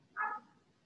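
A single faint bark from a dog in the distance, one short muffled yip in an otherwise quiet outdoor setting.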